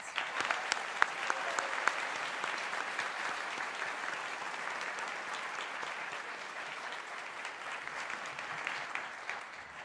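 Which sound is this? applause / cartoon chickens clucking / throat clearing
applause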